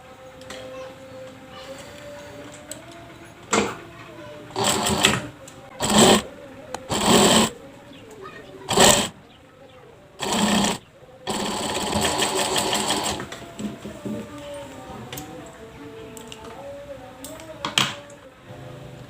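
A sewing machine stitches the second side seam of a toddler's garment in a series of short loud bursts and then one longer run, with brief speech in between.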